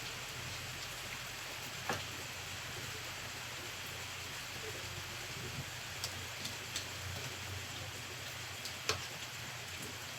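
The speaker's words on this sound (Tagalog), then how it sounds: "Laging umuulan dito, tol." Steady afternoon rain falls as a dense, even hiss, with a few scattered sharper drips and taps standing out against the constant wash.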